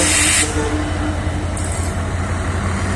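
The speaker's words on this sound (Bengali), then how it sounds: "এই সুন্দর ট্রেন যাচ্ছে" A train runs along the railway line near Sreenagar rail station by the Mawa highway, giving a steady low rumble with continuous hiss. The sound stays close and fairly loud throughout, and no voices are heard.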